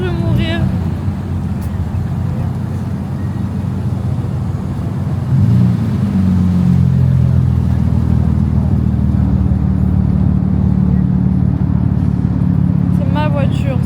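A car engine revving hard and holding a loud, steady drone during drifting in Tokyo, with the pitch climbing midway, while people talk and exclaim over the noise throughout.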